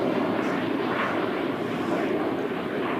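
Fixed-wing airplane taking off at Christchurch Airport, a steady loud engine roar that fills the whole span without letup, heard from a fixed spot near the runway.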